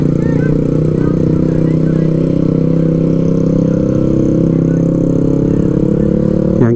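A motorcycle rides over rough, low ground at the Bulacan airport construction area in Taliptip, its engine a loud, close, constant drone throughout.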